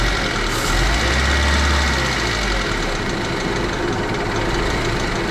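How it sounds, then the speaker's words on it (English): A Honda Civic EK engine idles with a steady mechanical hum and faint rhythmic ticking, continuous and fairly close, with no voices. "you got to hear how fucking quiet this fucking engine is"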